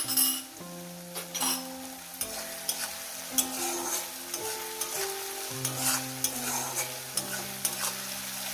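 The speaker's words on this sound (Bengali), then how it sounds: "পেঁয়াজ ভাজার মধ্যে দিয়ে দেবো কাঁচা লঙ্কাটা তাতে কাঁচা লঙ্কাটাও যাতে ভাজা হয়ে যায়" Green chillies fry with onions in a pan, giving a continuous sizzle broken by repeated clinks and scrapes of a utensil stirring, with a faint musical backing underneath.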